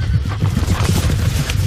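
Wild horses in the Pilliga forest neighing and snorting amid a rough, busy rumble of movement, loud and close for a short burst with no voices.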